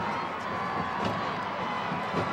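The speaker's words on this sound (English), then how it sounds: "one of the loudest crowds you'll ever want to hear in high school football right now" A huge stadium crowd of about 16,000 roars continuously at a 2003 Texas 3A high school football state championship game, a dense, loud wash of cheering with scattered shouts.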